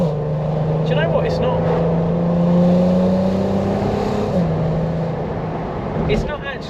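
An Audi TT Mk1 engine and exhaust revving up in a steady, droning rise, holding a sustained hum before dropping back, heard from inside the car at moderate level.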